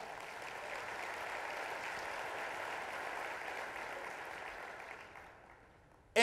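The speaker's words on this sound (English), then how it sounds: "a round of applause" Conference audience applause fills the room as a steady, dense wash of clapping that holds for several seconds, then fades out.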